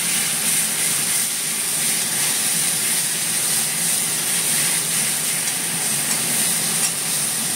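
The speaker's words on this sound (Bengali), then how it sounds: "পেঁয়াজটাকে ভালো করে ভাজতে হবে" Onion paste fries in hot oil in a pan with caramelizing sugar for a Bengali stuffed pointed gourd dish, a loud, dense, continuous sizzle and hiss heard close up without any talking.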